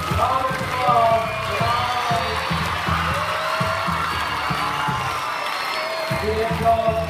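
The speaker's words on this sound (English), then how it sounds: "Round of applause." An audience at a school ceremony honouring captains and student leaders claps loudly and steadily throughout, with cheering and whoops mixed in and a voice speaking over the applause near the end.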